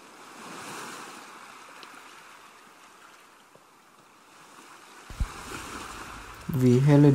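Sea waves by a seaside town wash in a soft, low, steady roar with some wind. A louder voice-like tone breaks in near the end.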